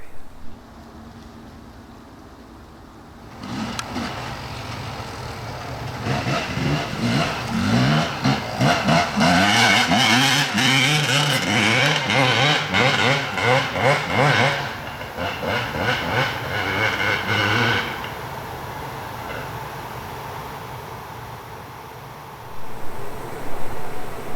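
A motorcycle rides past during a Michigan deer hunt. The engine rises from quiet into a loud, close, revving roar lasting several seconds, then fades, and a new engine rise returns near the end.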